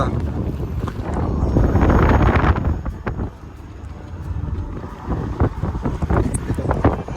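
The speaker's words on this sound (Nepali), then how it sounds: "चिसो मिठो हावा छ" Cool wind blows across a hilltop viewpoint, gusting loudly into the microphone with rumbling buffets that ease off partway through, and faint voices in the background.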